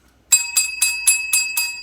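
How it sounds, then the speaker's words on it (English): A bright, bell-like ring of six rapid, evenly spaced strikes with a sustained metallic tone between them, loud and close, like a school bell going off. "It's a school bell."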